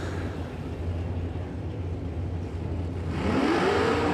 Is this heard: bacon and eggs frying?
no